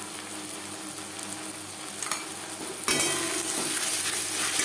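Ginger and green chilli paste frying with onions in a pan for a fish roe dish, a steady sizzle with stirring scrapes that swells louder and brighter partway through, close and with no talk.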